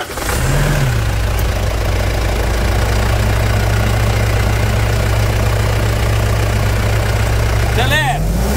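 A Mitsubishi Triton 3.2 diesel with serious engine problems after decarbonizing, idling loud and close with a steady low rumble and knock, a short blip early on and a voice briefly heard near the end.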